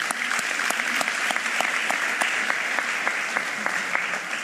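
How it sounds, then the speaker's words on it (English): A crowd at a Philadelphia mayor's 100-day public event gives a sustained round of applause, many hands clapping steadily throughout at moderate distance with no talk over it. "let's give them one more round of applause"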